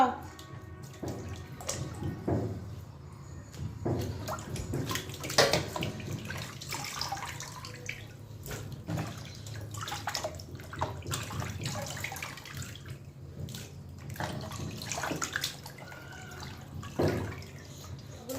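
Pieces of fish are rinsed in water, with splashing, dripping and running-water sounds coming in irregular bursts close by, and occasional faint talk in the background.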